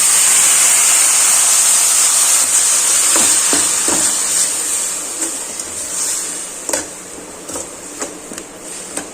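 Water splashes into roasted vermicelli and sugar in a hot pan for a sev custard pudding, raising a loud steamy hiss that slowly fades, followed by a few light scraping clicks of a spoon.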